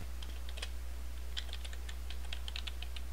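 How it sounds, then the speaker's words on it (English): A Linux terminal command typed on a computer keyboard, a quick run of light, close key clicks with brief pauses over a steady low hum. "So we'll type cd for change directory"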